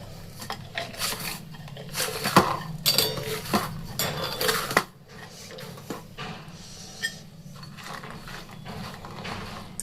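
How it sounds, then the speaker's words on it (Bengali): Food mashed with a potato masher in a pot, a series of sharp metallic clinks and ratcheting clacks in irregular bursts over the first five seconds, then sparser, softer taps, close and alone. "আলু ম্যাশার দিয়ে একটু ম্যাশ করে দিতে হবে"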